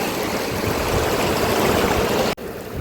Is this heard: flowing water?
yes